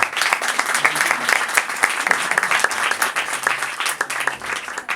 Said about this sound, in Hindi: बहुत सी तालियां आपकी तरफ से।